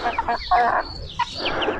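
A rooster clucks and crows in short, broken bursts nearby, alone with no talking.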